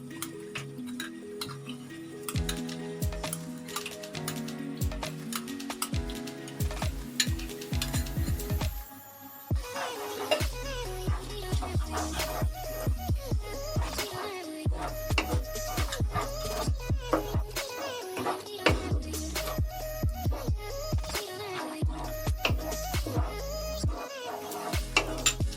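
A spoon stirs spice masala mixed with beaten yogurt in a pan for Bengali doi katla, with soft rhythmic scraping and light sizzling under steady background music.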